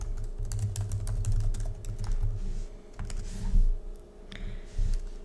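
Rapid typing on a computer keyboard, a close, busy patter of key clicks in uneven bursts with brief pauses, continuing alone with no voices.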